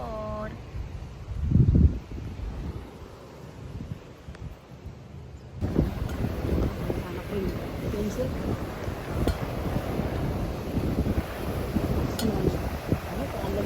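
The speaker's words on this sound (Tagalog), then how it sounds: "Hangin. Lakas ng hangin." Strong gusty wind by big waves buffets the microphone with low rumbling blasts, first faint, then stronger and continuous, with a voice briefly heard early on.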